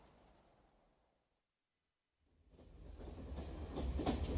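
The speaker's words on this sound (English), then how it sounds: "A few days later, we're on a train up to San Remo near the French border." A train travels in a radio drama, its carriage rumble fading to near silence before swelling back as a rising, rhythmic clatter of wheels that grows louder toward the end.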